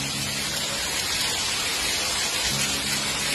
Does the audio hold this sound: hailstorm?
yes